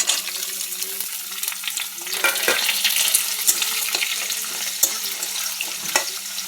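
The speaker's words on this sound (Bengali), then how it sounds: "পেঁয়াজ ভাজা হয়ে গেছে" Onions sizzle steadily in hot oil in a home kitchen while a utensil stirs them, with a soft tonal hum underneath and occasional clinks, close and continuous.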